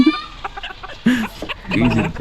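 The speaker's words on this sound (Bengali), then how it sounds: "এগুলো কি মুরগি ভাই কলম্বিয়ান এই যে কলম্বিয়া সিল্কি" Colombian silkie chickens cluck in short, uneven bursts close by, with some human voices mixed in among the calls.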